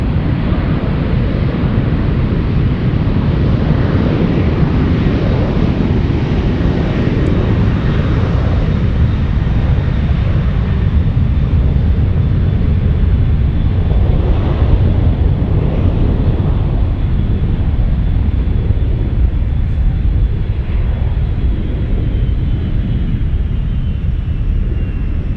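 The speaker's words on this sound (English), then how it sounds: "the 737 on the move, cleared for takeoff" A Boeing 737 powering up for takeoff at San Francisco Airport, a broad continuous jet roar heard from a distance, swelling steadily with wind rumble on the microphone and no talking.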